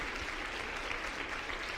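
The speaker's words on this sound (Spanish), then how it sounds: "Un aplauso a Jesús y a María por ustedes" A group at a religious gathering applauds in steady, dense clapping, moderately loud throughout the short stretch with no speech over it.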